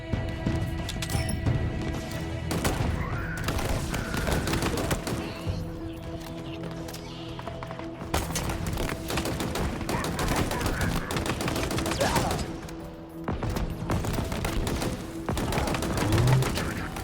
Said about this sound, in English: Man, the hip fire on this is so good.